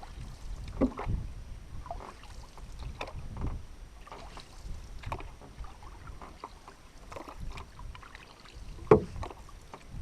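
Canoe paddling on a calm lake in Algonquin, Cauchon Lake: rhythmic soft strokes and gentle water swishes about every second, close and moderately quiet, with light wind noise and an occasional knock of paddle against hull.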